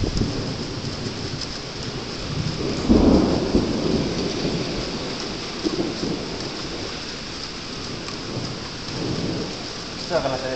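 Steady rain pours while thunder rumbles, with a heavy low crack near the start and softer rolls later.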